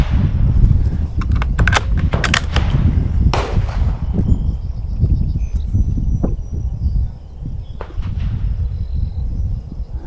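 A varmint rifle with a 4x12 scope fires several sharp reports spaced over the first few seconds outdoors, with steady wind noise underneath.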